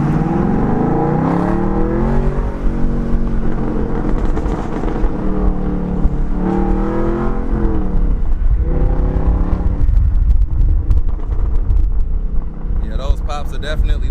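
A Camaro SS fitted with an H-pipe exhaust revs and accelerates in repeated rising pulls, deep and loud, with sharp crackling pops at the end.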